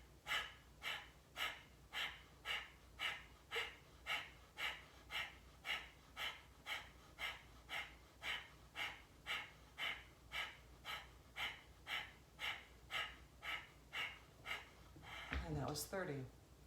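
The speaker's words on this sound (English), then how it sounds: "Let's inhale together, exhale together." Rapid rhythmic breath work: about two dozen sharp, evenly paced nasal breaths pulse steadily for roughly fifteen seconds, close to the microphone, then end in a longer final breath.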